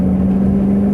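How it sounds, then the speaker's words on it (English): Ferrari engine running on the Silverstone track, a loud, close, steady droning hum that holds an even pitch through the short stretch, with no talking. "let the car straighten up and accelerate"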